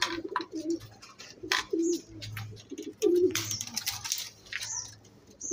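Pigeons from a backyard flock coo in repeated low, throaty phrases, three clear bursts spaced about a second apart, close by, with faint chirps and rustling between the calls.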